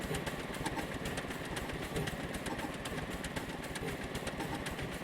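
Engines on a flying craft in the video game Scrap Mechanic give a steady, rapidly pulsing mechanical drone with dense rhythmic thrumming, constant and fairly loud, with no voices.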